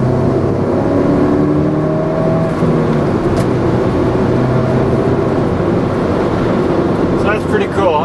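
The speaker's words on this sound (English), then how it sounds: "I'm going to slip it into neutral right now, and I'm going about 55 miles an hour, and I'll go into third and pass this guy" A manual car cruising at about 55 mph revs up as it is shifted into third without the clutch to pass, the engine droning loud and steady under a talking driver.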